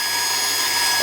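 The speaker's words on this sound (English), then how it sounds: "I'll stop the saw." A table saw fitted with a riving knife runs at full speed, giving a loud, close, steady high-pitched whine and hiss with no change over a single second.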